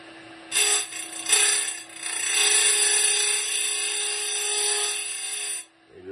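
A Simington 451c chain grinder's stone hums steadily while being dressed, with a bright, sustained grinding whine in a few contacts and a longer pass before the motor winds down.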